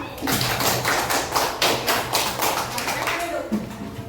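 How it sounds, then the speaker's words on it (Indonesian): A group claps hands in a lively, uneven burst lasting a few seconds, close by, with some voices underneath. "Ya, coba kasih tepuk tangan untuk kelompok 2."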